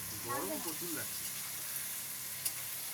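Green chilies sizzle and fry in a hot pan, a steady hiss that runs through the whole stretch with a faint stir near the end, under brief talk at the start.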